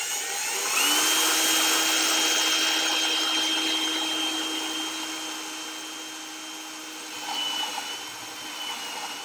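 A power drill bores a hole through a panel while building an arcade monitor test bench with an isolation transformer, a steady whirring drone that starts sharply and holds at high loudness for several seconds before easing, close and without talk.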